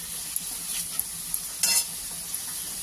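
A soft, steady sizzle of vegetables and paneer frying lightly in a pan, with a few faint stirring scrapes and one brief louder stir, close and quiet with no voices.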